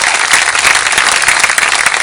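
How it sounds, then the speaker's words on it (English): Crowd applauding at the closing ceremony of the Avon Walk for breast cancer in Houston, loud, dense and continuous clapping with no break. "Yes, round of applause for yourself."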